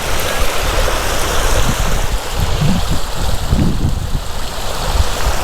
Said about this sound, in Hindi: काफ़ी सारी नदियां हैं छोटी छोटी, जो कि इस झील को रिफ़िल करती हैं